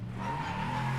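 A race car at full throttle at Spa-Francorchamps in the Project Motor Racing video game, a steady, loud engine drone held high and constant through the moment, with no talking.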